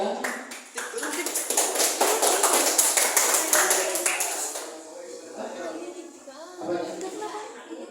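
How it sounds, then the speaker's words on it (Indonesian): Schoolchildren in a classroom clap for a group called up to present, a burst of loud close clapping that fades into scattered claps and background chatter. "Tepuk tangan untuk kelompok 2."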